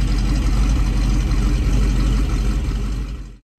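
A 2014 Chevrolet SS with a 415-horsepower small-block V8 gives a loud, close, deep and steady engine rumble with a heavy low end, held continuously before cutting off abruptly near the end.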